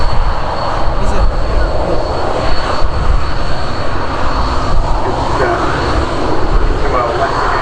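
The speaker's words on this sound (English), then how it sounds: "the Airbus A320 is just slowing down to give way to the TUI 787 there, taxiing out very shortly to depart to Montego Bay" At an airport, an Airbus A320 and a TUI Boeing 787 taxi nearby, giving a loud, steady jet engine roar with a constant whine, while a voice talks over it.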